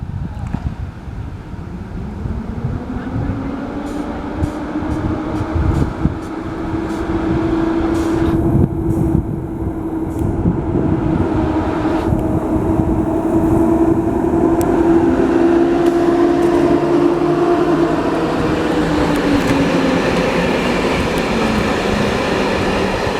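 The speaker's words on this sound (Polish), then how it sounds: "Pociąg PKP Intercity Łebsko do stacji Łeba odjeżdża ze stacji Jelenia Góra. Pociąg rozpoczyna bieg." The PKP Intercity Łebsko train departs Jelenia Góra station, a loud, close rumble of wheels and motors rising into a steady drone with a sustained tonal whine as it pulls away.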